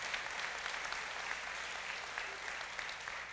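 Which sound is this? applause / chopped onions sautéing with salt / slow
applause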